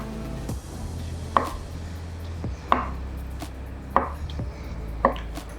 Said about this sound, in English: Now you just cut it into slices.